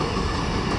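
An empty iron ore train rolls past on rails in Australia's Mid-West, heading back to the mine, a steady close rumble of wagons and wheels with no voices.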